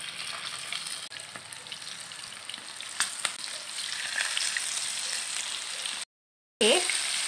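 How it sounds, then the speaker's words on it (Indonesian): Prawns fry in very hot oil with a steady, dense crackling sizzle that runs close and continuous, dropping out briefly near the end before resuming loudly. "Minyak kita tu betul-betul panas, baru kita goreng udang."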